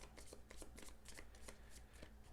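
A deck of cards for the World War One zombie board game Z War One is shuffled by hand, a quick series of close, crisp riffling bursts in a quiet room.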